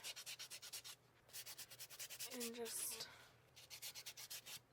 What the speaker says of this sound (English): Sometimes I'll take a sanding brick just to really make sure.